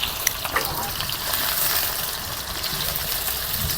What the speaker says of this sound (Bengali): খুব সুন্দর করে আলুটা একটু ভেজে নিব